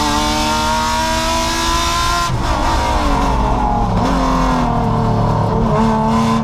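Honda S2000 race car with a swapped high-mileage junkyard V6 running on E85, a loud close engine drone holding steady then rising and falling through revs and gear changes.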